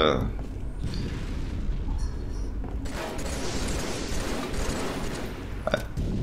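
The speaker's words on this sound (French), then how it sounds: "Ah, ça, il y en a, partout, les grenades, hein." Grenade blasts in the Halo 3 game on the Guardian, Heretic and The Pit maps, heard as dull booming rumbles spread across several seconds, with a sharp burst near the start and a louder surge midway.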